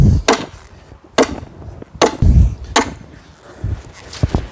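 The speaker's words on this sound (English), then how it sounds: "I'd swing the hammer over my head" Several sharp, heavy hammer strikes into the ground for a sunken garden land at uneven intervals, each a loud crack with a brief ring, separated by quieter rustling and scraping.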